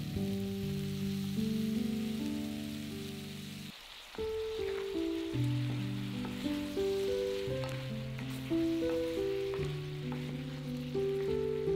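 Chicken breast and tomatoes frying over high heat in a pan, with a continuous soft sizzle and crackle running under background music.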